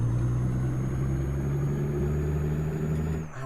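A truck engine in the Euro Truck Simulator driving game drones in a steady, loud, low rumble, running evenly throughout before dipping briefly at the end, with a faint high whine above it and no one talking.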